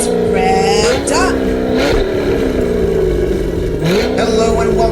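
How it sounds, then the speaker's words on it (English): Dirt track race car engines with 320 cubic inch motors rev loudly and continuously up close, pitch rising and falling in several throttle swells. "Fire up the 320 cubic inch race engines."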